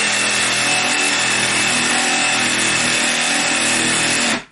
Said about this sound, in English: Yes, I'm rocking my jigsaw.